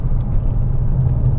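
A Ford Taurus SHO pulls away hard from a stop, giving a short, loud, close burst of low engine rumble and road noise.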